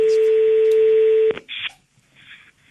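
A steady telephone tone holds for over a second before breaking off, followed by a couple of short electronic beeps and a faint tone as a call is placed.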